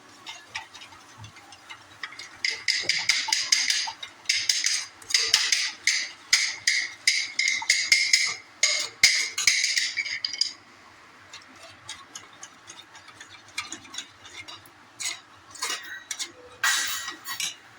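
Ingredients are mixed in a bowl for a raita, and a utensil clinks and taps quickly and rhythmically against the side, loud and close. The stirring pauses briefly, then resumes in lighter, scattered taps.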